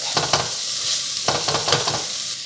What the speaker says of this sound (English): now it's time to bloom some spices